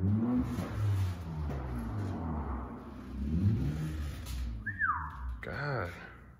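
A car engine revs hard and climbs in pitch into VTEC, a rising mechanical whine among people talking nearby.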